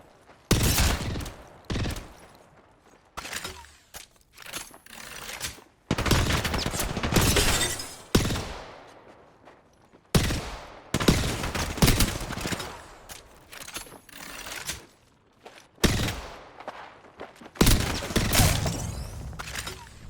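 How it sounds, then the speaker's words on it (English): Video game shooter gunfire rings out in repeated loud bursts and rapid volleys, each a sharp cluster of shots with short gaps between, close and dominant throughout. "Opening fire."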